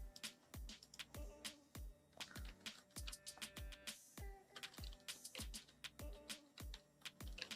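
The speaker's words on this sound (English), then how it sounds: "So let's type in something longer." Quiet, steady typing on a computer keyboard, a rapid irregular run of crisp key clicks with brief pauses between bursts, alone without voices.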